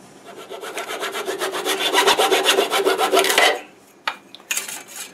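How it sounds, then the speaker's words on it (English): A hand saw cuts through the remaining wood holding a turned bowl, with rapid rhythmic back-and-forth rasping strokes that stop after about three and a half seconds, followed by a few short scraping sounds. "I think I'll just saw the rest of it off."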